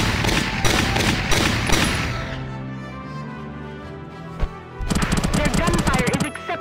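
Rapid bursts of gunfire from Valkyria Chronicles, a loud rattling volley that fades into a ringing pause before another close, crackling burst erupts.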